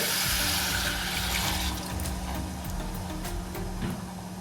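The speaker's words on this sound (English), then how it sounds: "I'm going to add 1 cup of water." A cup of water is poured into a pot of lamb biryani, giving a steady rushing splash over the hot pot's hiss that eases slightly toward the end.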